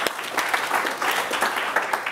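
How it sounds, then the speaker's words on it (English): Audience at a talk breaks into short applause, a brief patter of many hands clapping at moderate volume with a few sharper individual claps standing out. "Y'all can clap to that."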